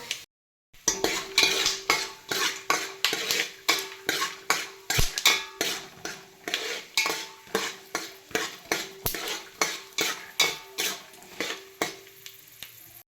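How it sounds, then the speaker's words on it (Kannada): Peanuts, dry chillies and coconut fry in a metal pan, with rhythmic spatula scrapes and clanks repeating about twice a second over a continuous sizzle, close and fairly loud. "ಶೇಂಗಾ ಕಾಳನ್ನು ಕೂಡ ಇದೇ ಹಂತದಲ್ಲಿ ಹಾಕಿ ತುಂಬ ಚೆನ್ನಾಗಿ ಫ್ರೈ ಮಾಡ್ಕೋಬೇಕು"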